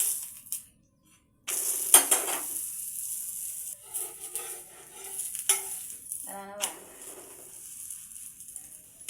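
Sweet potato pancake frying in oil in a pan, a soft steady sizzle with intermittent metallic clinks and scrapes of a utensil against the pan, fairly close.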